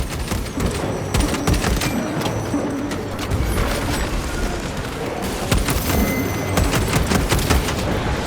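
Rapid, loud bursts of gunfire in the video game Warhammer 40k Space Marine 2, dense and continuous with scattered sharp cracks and booms throughout.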